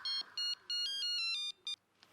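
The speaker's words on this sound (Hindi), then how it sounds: "किसी का फोन बज रहा है।" A phone ringtone rings in repeated melodic bursts of bright tones with short gaps, fairly loud and alone, ending in one shorter burst.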